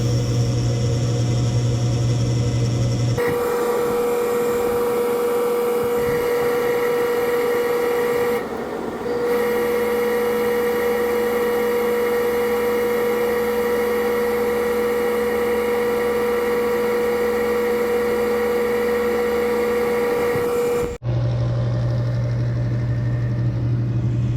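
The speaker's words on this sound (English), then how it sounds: "I put the motor back and restarted the unit. It was still making a rattling sound." A Goodman GMNT060-3 furnace blower motor, with a suspected unbalanced wheel, runs with a loud, steady droning hum and a rattle, starting and stopping abruptly, with no talk.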